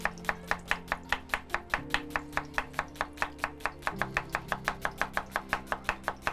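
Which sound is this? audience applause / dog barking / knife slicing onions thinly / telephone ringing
knife slicing onions thinly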